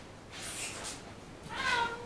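A domestic cat meows once, a short, fairly soft and close call near the end, preceded by a brief breathy rustle, in a quiet room with a model railway layout and no talking.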